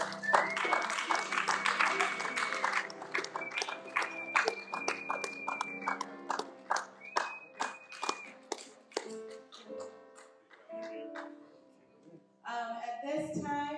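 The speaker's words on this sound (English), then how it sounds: "Let's give all our Pathfinders another round of applause." Scattered clapping at an award ceremony for Pathfinders, mixed with talk and a sustained tone, thinning toward the end before a short musical burst.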